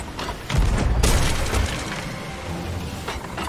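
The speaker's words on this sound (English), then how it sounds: "We'll shoot the skeleton ship." Ship cannons firing at a skeleton ship in Sea of Thieves, two heavy booms close together followed by a rumbling decay and sea ambience, with no talking.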